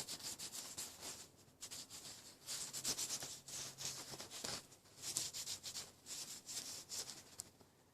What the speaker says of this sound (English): I'll see if I can rub some oil down in those little crevasses in the wheat leaf pattern